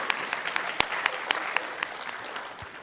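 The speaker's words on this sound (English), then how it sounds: "we can clap for them too" Audience clapping at a Diversity in STEM dinner, a short burst of scattered applause from a seated crowd with sharp individual claps standing out, fading toward the end with no talk over it.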